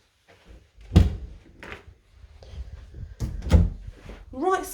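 Doors of a clean two-door fitted wardrobe being opened, giving several knocks and sliding thuds with a squeak near the end, heard up close in a quiet room.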